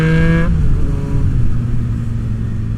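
A Yamaha FJ-09 motorcycle with an aftermarket exhaust pulls away hard, a loud close engine note that rises then drops as it shifts and settles into a lower drone.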